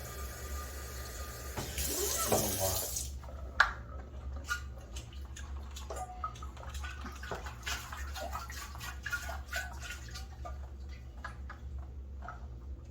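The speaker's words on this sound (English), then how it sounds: "Just going to see if I can rinse it out through where the heating element would go" Cold water rinses sediment out of a Bosch Tronic 3000T ES 2.5-gallon electric water heater tank through the heating element opening, with a brief rushing burst early on, then scattered drips and ticks over a low steady hum.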